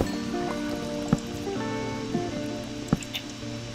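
Flowing water in the Minecraft video game trickles steadily under a tonal game background, with a few sharp clicks scattered through, moderately loud and without talk.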